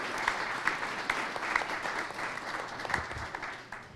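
An audience at a mental health town hall event breaks into applause, a steady wash of many hands clapping at moderate volume from a crowd, tapering slightly toward the end.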